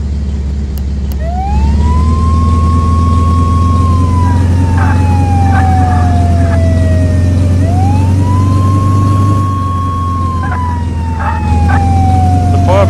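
A video game ambulance siren wails in long rising and falling sweeps over a loud, droning engine rumble, with a brief quicker warble breaking in near the end; the vehicle sounds close and steady throughout.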